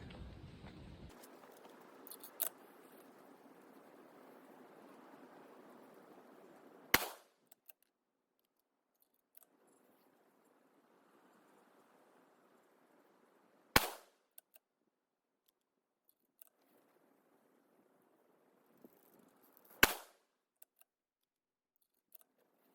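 .243 Win rifle loaded with 90-grain ELD-X bullets over Shooter World 4350 powder fires three sharp, loud shots several seconds apart outdoors, with faint background hiss and quiet gaps between them.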